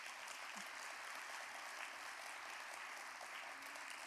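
An event audience applauds twelve newly graduated data scientists with steady, continuous clapping that holds evenly throughout, heard from a moderate distance with no voices over it.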